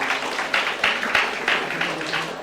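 Audience at a college magazine launch clapping for a student, a loose, moderately loud patter of hands with a few sharper claps standing out in a pulsing rhythm.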